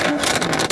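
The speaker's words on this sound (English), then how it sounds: "It's a Porsche GT3." A Porsche GT3 engine roars at high revs against its soft limiter, a brief, loud and steady blare with no talk over it.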